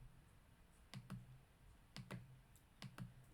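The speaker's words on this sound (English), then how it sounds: "I'm basically typing this entire thing into the calculator." Keys pressed on a calculator while working out a chemistry molecular mass, heard as three quick pairs of light plastic clicks spaced about a second apart, close and quiet, with no talking.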